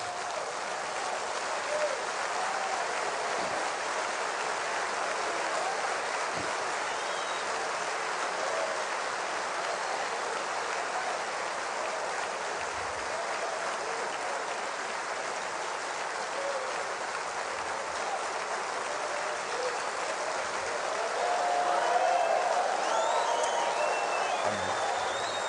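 A church congregation stands and applauds in a sustained, even roar of clapping that holds steady for a long stretch and swells slightly near the end.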